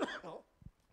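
A single short cough rises near the start, its broad burst fading quickly; a fainter low throat sound follows, with no other voice or sound around it.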